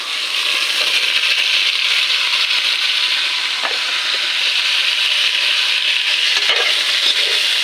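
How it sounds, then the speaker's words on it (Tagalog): Vegetables, including papaya and taro, sauté in a hot pan with a dense, continuous sizzle, steady and close throughout, with a few faint clinks of a utensil stirring now and then. "ginisa lang to guys, yung pagluto"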